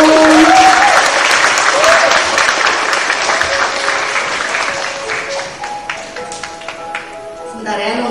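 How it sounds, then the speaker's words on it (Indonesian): Audience applause after an art house film screening at a cinema, a loud, steady wash of clapping that thins out toward the end, with a few tonal beeps and voices faintly beneath. "Kasih tepuk tangan dong."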